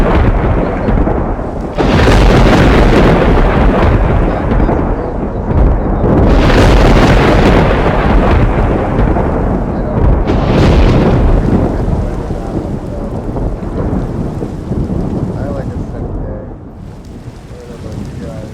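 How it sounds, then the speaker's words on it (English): In a video game server world, heavy rain pours steadily while loud rolling thunder swells in several long booming waves, then the storm eases slightly toward the end. "It does rain a lot."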